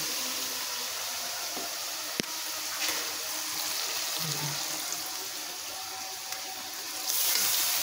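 Meat goes into spiced oil in a cooking pan, setting off a steady, close broadband sizzle that runs throughout and swells louder in the final second.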